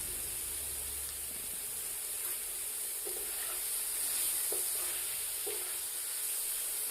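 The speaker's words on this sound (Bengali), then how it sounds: "এরপর পেঁয়াজ কুচিগুলো দিয়ে দিলাম" Chopped onions frying in a pan while cooking a cauliflower roast, a steady, quiet sizzling hiss with a few faint stirring clicks and no talking.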